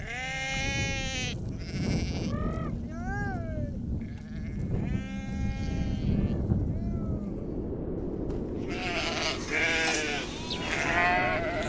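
Sheep bleat loudly and repeatedly, several overlapping calls close by in a flock, with a low rumble of ambient noise underneath.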